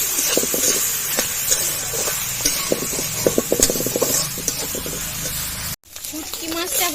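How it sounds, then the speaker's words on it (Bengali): Dried fish (shutki) seasoned with turmeric and salt sizzles and hisses in hot oil, with stirring scrapes and clatter throughout, then a sudden brief cut before the frying noise resumes. "তারপরে মাছটা ভালো করে ভেজে নেব।"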